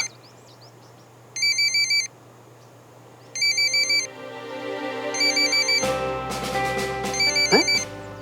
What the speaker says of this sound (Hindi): सुमन, फोन उठा लूंगा तो लड़ेगी